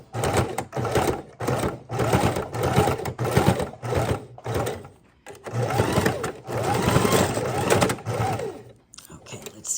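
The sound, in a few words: sewing machine stitching junk journal crease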